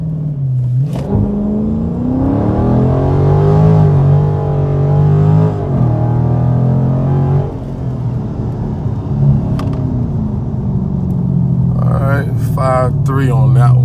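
A Dodge Charger/Challenger Scat Pack launched manually from a standstill, its V8 revving hard and pulling up through the gears in a loud, close rumble with rising and falling pitch, while a person speaks over it.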